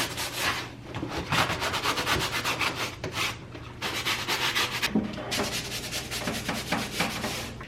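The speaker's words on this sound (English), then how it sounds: "I'm going to get these immersed and get them scrubbed up." Vigorous back-and-forth scrubbing of greasy range hood filters in a soapy kitchen sink, rough and rhythmic, in close strokes with a couple of short pauses between bursts.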